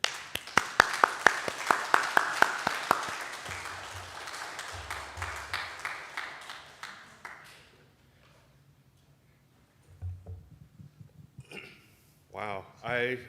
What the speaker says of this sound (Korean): 우리 목사님 나오실 때에 큰 박수로 목사님 웰컴하겠습니다.